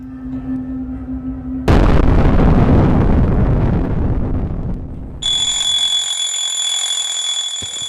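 Alarm clock ringing at 3 a.m., a loud continuous high electronic ring that starts after a burst of heavy rumbling noise and keeps going steadily to the end, with no talking.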